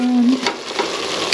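Food sizzling and frying in a pan as it is stirred for a Nepali-style laing with dashi and pepper, a steady hiss with a few scraping stir sounds over a short stretch, no talking.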